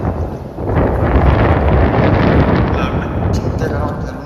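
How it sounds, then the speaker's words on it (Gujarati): Strong wind buffets an outdoor microphone on a rainy morning in rural Gujarat, a steady, heavy roar of rumbling noise that fills the whole clip without letting up. "વાયરો છે અત્યારે બરોબર."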